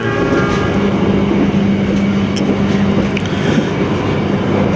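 Economy-class passenger train car on the Malang to Bandung route rolling steadily, with a continuous rumbling drone and faint wheel clatter heard from inside the carriage, no talking.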